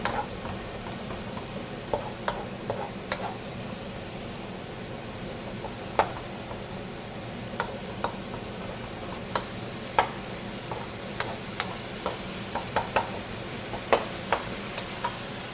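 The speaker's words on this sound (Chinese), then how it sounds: "爆一爆香啲醬" Chives and pig's blood sauce being stir-fried in a pan, with a steady low sizzle under scattered sharp ticks and scrapes of a utensil stirring, fairly close and without talk.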